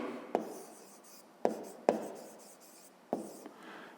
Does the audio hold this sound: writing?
yes